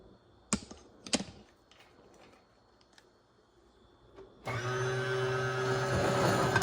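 An Abosi horizontal masticating juicer juicing carrots and oranges: a few sharp clicks and knocks as it is handled, then the motor starts with a steady loud whirring grind that continues to the end.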